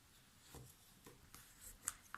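Paper is pressed and scored along a fold line for a small Halloween box, giving soft faint rubbing strokes in a few short passes, alone and close.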